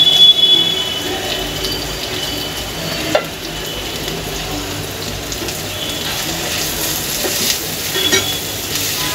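Chopped onion and small cubed tomato frying in a pan, a steady sizzle with stirring scrapes and occasional clinks throughout, fairly loud and close with no talk.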